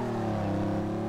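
Car engine in the video game Street Legal Racing Redline holds a steady, loud, low droning hum with strong harmonics, heard alone for about a second.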